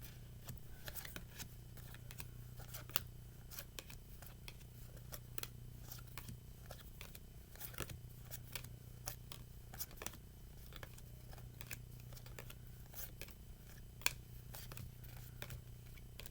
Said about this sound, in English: I'm going to shuffle it up a couple times. And just going to keep shuffling it.